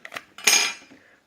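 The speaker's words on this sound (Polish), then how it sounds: "Ściągamy tylną klapkę," A few short clicks, then a sharp plastic snap and scrape as the back cover comes off a 2007 Nokia E51 phone, close up with no voices.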